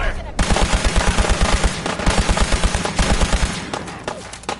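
Soldiers in Fallout 4 open fire in rapid automatic bursts, a loud, close and steady rattle of shots that runs for several seconds before thinning out at the end.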